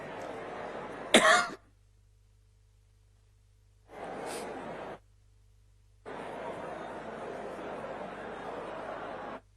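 A sharp cough from a person with a bad cough bursts out near the start, followed after quiet gaps by two longer stretches of breathy, rough throat noise.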